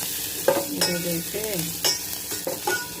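Spices sizzling in oil for a chickpea curry tempering, a soft continuous crackle with spoon scrapes, while a voice talks briefly over it.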